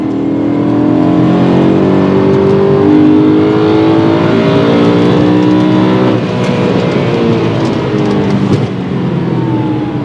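A high-mileage BMW E90 M3 with 172,000 miles drives hard along a Georgia mountain road, its V8 engine loud and steady with rising and falling revs throughout, close and continuous.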